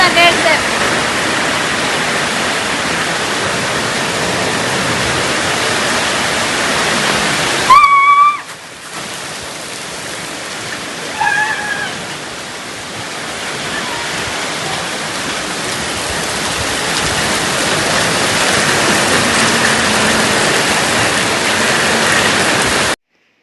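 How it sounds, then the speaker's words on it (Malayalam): Heavy rain pours steadily in a dense, even rush, with a brief dip partway through and a faint voice or two beneath it. "പുറത്ത് നല്ല മഴ"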